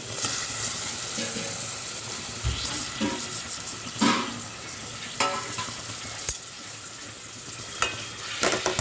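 Onions and tomatoes sautéing in a pan as the base for a fish curry, with a steady sizzle and occasional stirring scrapes and knocks, close and without speech.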